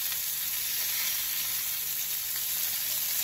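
Chicken sticks cook in a pan with a steady, close, even sizzle that holds without a break from start to finish.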